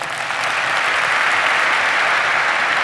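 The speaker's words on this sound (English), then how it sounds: "can you go ahead and clap for me?" A large keynote audience at the INBOUND 2014 conference claps together, producing a thick, continuous wash of applause that swells quickly and stays loud and steady throughout.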